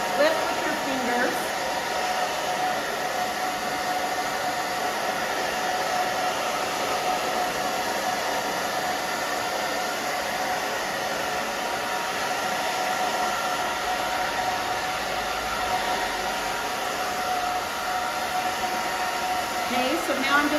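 A hair dryer blow-drying a short spiky pixie haircut runs steadily and loudly for the whole stretch, a constant airy roar with a faint high whine. No pauses or speed changes break it.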